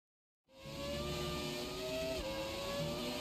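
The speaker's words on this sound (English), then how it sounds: "The sound of that engine!" An F1 car engine in the F1 2017 racing game starts abruptly after a moment of silence and then holds a steady, high-pitched whine that rises slightly in pitch, continuous and fairly loud with no voices.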